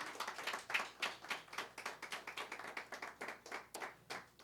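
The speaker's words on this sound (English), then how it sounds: "Please give a warm round of applause and welcome of our sister" An audience at a panel discussion on post-colonial Kenyan politics gives a faint, distant round of clapping to welcome a speaker, with claps falling into a loose, pulsing rhythm throughout.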